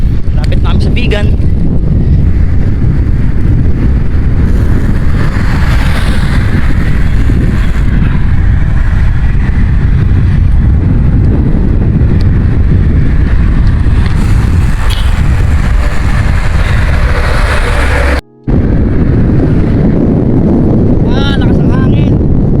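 Strong, steady wind roars and buffets the microphone while cycling along a seaside road in northern Luzon, a continuous broadband rush with short gusts, dropping out for a moment near the end.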